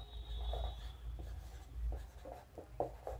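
Chalk or marker writing on a board during a kinematics lesson, a few short scratchy strokes and taps over a quiet room.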